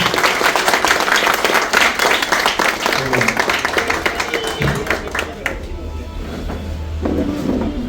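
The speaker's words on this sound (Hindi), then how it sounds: "ताली बजती रहनी चाहिए साथियों।" Audience at a yearly track maintainers' meeting clapping steadily, a dense sustained applause close by that thins slightly toward the end, with a voice speaking over it.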